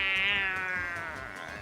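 A woman imitates a cat with a drawn-out, high-pitched meow that slides slowly downward and fades over about two seconds, heard alone and close.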